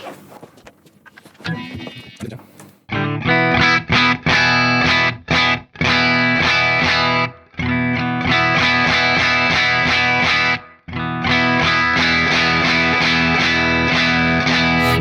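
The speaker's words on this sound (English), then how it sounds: "let's go to the depths of hell, to the gainy stuff" A high-gain distorted electric guitar played through a real Blackstar amp chugs out thick, sustained chords in choppy bursts with abrupt stops, loud and saturated after a quiet opening of light picking and handling noise.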